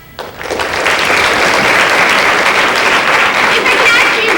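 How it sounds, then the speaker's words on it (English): An audience applauds students at a middle school anti-bullying assembly, with steady, dense clapping that swells quickly after a brief quiet start and holds strong throughout. "If I can ask you to just hold your applause"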